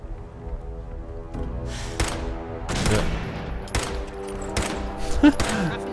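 Turret gunfire in Fallout 4, a series of sharp separate shots and short bursts at irregular intervals over a droning game background, fairly close and loud.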